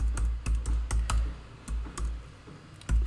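Typing on a computer keyboard, a run of close, distinct keystrokes in an uneven rhythm with short pauses, each key tap crisp and thudding, no voices.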